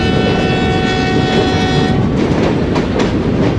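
Loud, sustained whistle tones from the Ravi Express sound over the steady rumble and clatter of the train running along the Ravi River toward Lahore, fading out partway through as the wheel noise continues.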